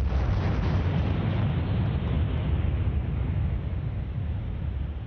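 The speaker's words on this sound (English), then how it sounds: "Entire stars can blow themselves apart." A star exploding, rendered as a sound effect: a dense, continuous roaring rumble with heavy low-end energy, sustained and loud throughout before easing slightly toward the end.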